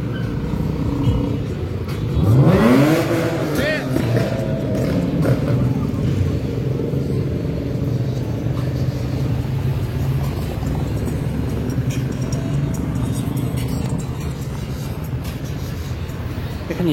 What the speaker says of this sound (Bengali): এখানে ইয়াং বয়সের ছেলেরা খুব সাউন্ড বাজিয়ে গাড়ির হর্ন দিয়ে আনন্দ করতেছে